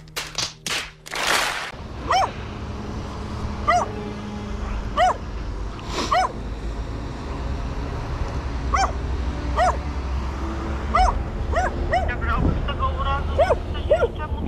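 A dog guarding a man lying in a roadside ditch in the woods barks and yips repeatedly in short, uneven bursts, fairly close, over a steady background hum, with people talking nearby.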